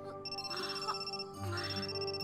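A sustained electronic ringing tone from the horror game Amnesia holds steady and fairly loud, with muffled game sounds shifting underneath.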